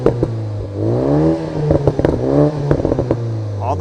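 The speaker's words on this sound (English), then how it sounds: "In the US, it does crackle and pop." A Toyota Supra with the 2.0-liter engine rumbles loudly as the revs rise and fall, its exhaust giving off a scatter of sharp crackles and pops.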